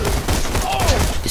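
Rapid gunfire from weapons in the shooter video game Borderlands 2, a dense burst of shots that runs steadily through the whole short stretch at fairly even loudness.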